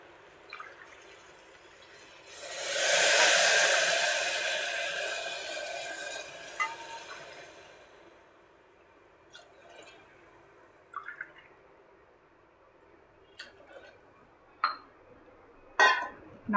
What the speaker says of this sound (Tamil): 4 டம்ளர் தண்ணி விட்டுட்டேன்